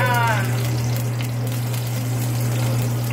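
Sliced onions dropped into a hot pan for Spanish rice, giving a loud, steady sizzle with a constant low hum beneath it and a brief voice at the start.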